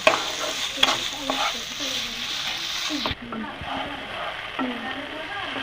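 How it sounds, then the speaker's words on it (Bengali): Spice paste with bitter gourd and potato stir-fried in a pan, the spatula scraping and stirring rhythmically over a steady sizzle, close and fairly loud. "মশলাটাকে একটু ভালো করে কষাবো"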